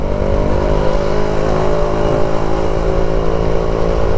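A Yamaha RX135 motorcycle engine idles and revs steadily up close, a loud continuous throbbing drone with no talking.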